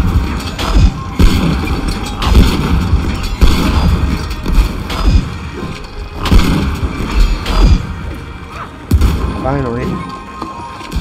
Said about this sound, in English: All I hear is just cannon noise.